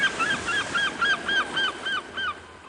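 Seagulls calling by the sea, a run of about nine sharp, repeated cries in an even rhythm, fairly loud and close, with no voices.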